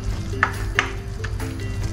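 Soft cooked mung beans are pressed and mashed with a wooden spoon in a pot, giving a couple of soft squishy scrapes over a low bubbling simmer.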